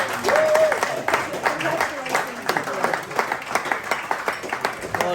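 An audience of long-distance walkers applauds a tenth hundred-mile completion, many hands clapping steadily at moderate volume while a voice speaks briefly at the start.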